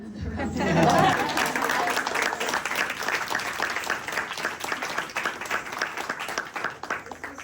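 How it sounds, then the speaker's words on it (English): Audience applause at a Baithak cultural gathering, swelling quickly to a loud peak and then continuing as dense, gradually fading clapping, with some chatter mixed in. "Once again, another round of applause."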